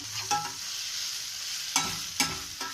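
Coriander powder and turmeric frying in a pan, a soft continuous sizzle broken by several sharp scrapes and taps of a spoon as the spices are stirred, close and fairly quiet.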